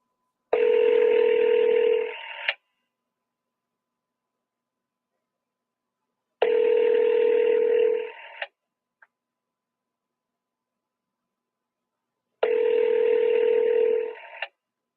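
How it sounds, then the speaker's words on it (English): Telephone keypad and ringback tones during an outgoing call: three separate bursts of about two seconds each, evenly spaced with silence between, clear and close with no talking. "This lady, I'm going to try to call her one more time"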